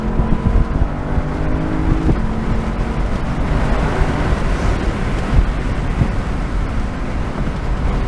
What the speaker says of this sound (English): We're going to use a paddle shift as downshift to pass this guy.